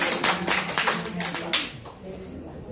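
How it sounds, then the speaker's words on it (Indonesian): A church congregation clapping for Jesus, a burst of brisk handclaps that fades out after about two seconds, with a voice speaking over it. "Tepuk tangan untuk Tuhan Yesus."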